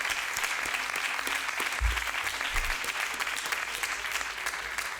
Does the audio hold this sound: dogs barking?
no